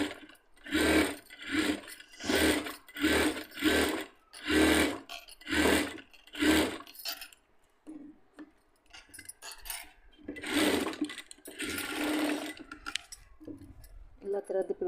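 A sewing machine stitches cotton cloth in steady bursts of rapid mechanical whirring. The stitching is close and fairly loud, with a pause in the middle before a couple more runs.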